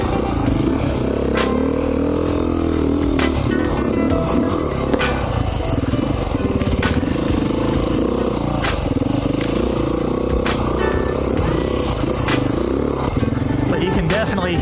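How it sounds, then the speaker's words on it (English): A 2019 Beta 500 RR-S dual sport motorcycle with an FMF exhaust runs off-road, a continuous loud engine drone with clattering and scraping over rough ground, close throughout, with some talk. "You can definitely hear the engine really being choked out."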